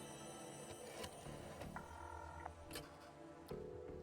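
Video game phone sequence for calling a taxi: a faint electronic ring and dial tones come in short steady bursts, with small clicks between them and no voices.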